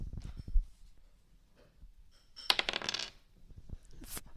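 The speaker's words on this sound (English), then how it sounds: "So, John, would you go ahead and do the honors of rolling 1d6 for your hit points?" A six-sided die is rolled on a tabletop: a short clatter of hard tumbling taps, then a brighter rattling burst as it settles, close and fairly quiet.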